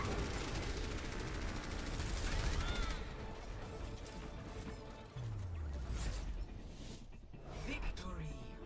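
Gunfire from an enemy Junkrat pushed into the backline during an Overwatch match, dense game noise with mechanical clatter and bursts of shots mixed with sound effects, while players talk over it.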